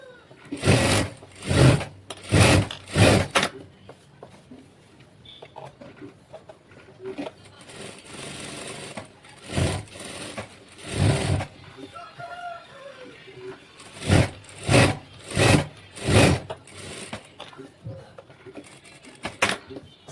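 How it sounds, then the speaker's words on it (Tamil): A sewing machine stitches a silk saree umbrella frock with green thread, loud close bursts of rapid stitching separated by quieter pauses, repeating in several runs across the stretch. "நம்ம க்ரீன் கலர் த்ரெட் போட்டு ஸ்டிச் பண்ணிட்டுருக்குறோம்"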